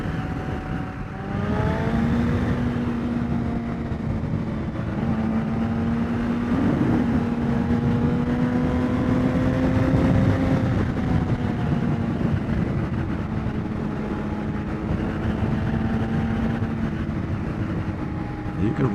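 A Yamaha FZ1 inline-four engine drones continuously while riding through twisty roads, its pitch rising and falling with the throttle, under wind rush and intermittent talking from the rider.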